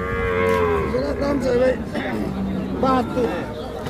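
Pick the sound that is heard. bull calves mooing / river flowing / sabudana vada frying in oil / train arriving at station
bull calves mooing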